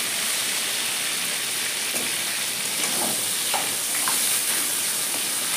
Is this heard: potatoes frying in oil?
yes